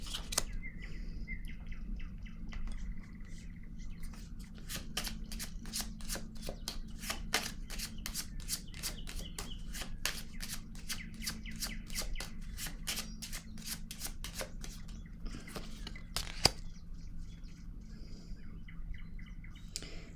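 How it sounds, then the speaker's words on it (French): Tarot-style reading cards are shuffled, flicked and laid down in quick, crisp snaps and slides close at hand. A bird chirps faintly in the background. "Ici, je vais déposer une carte."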